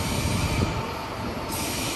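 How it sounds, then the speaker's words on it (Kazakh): An İzban commuter train in Izmir rolls past with a loud, continuous broadband rumble and rail roar, wheels squealing faintly throughout, close by and steady for the whole stretch. "Marmaray сыяктуу поезд барат экен."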